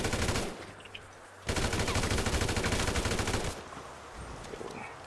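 Rapid bursts of gunfire during a roleplay execution in a video game, a loud sustained automatic volley in the middle flanked by quieter stretches, with no talking.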